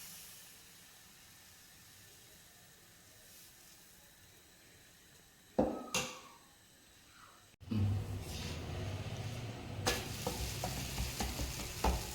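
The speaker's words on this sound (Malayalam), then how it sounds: "ഇനി നമ്മൾ ദോശ ചൂടാൻ പോകുന്ന പരിപാടിയിലാണ്" Quiet background, a couple of sharp clatters, then a steady loud sizzle of dosa batter frying on a hot pan that continues to the end.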